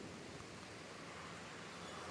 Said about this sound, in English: You can hear the river behind me.